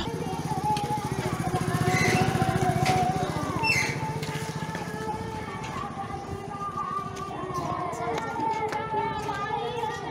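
Hero Splendor motorcycle riding along a road, its engine puttering steadily and fairly close, with a faint bird chirp in the background.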